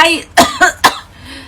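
A voice actor coughs three times in quick succession, sharp and close, after a brief breathy lead-in, with a quiet tail afterward.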